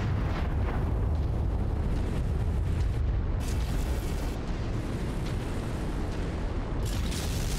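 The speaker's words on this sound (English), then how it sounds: "Those guns are operational and sending fire on our ships." Orbital guns firing in the MechWarrior 5 video game, a continuous rumbling barrage of deep explosions that roars loudly and steadily throughout, with no clear talk over it.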